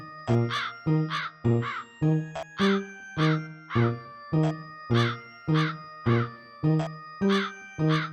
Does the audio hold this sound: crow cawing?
yes